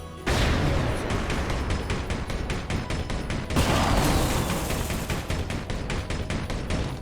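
Dense, continuous gunfire from Saints Row IV, rapid overlapping shots forming a loud sustained barrage for the whole stretch, with a brief swell of heavier blasts midway and no talking over it.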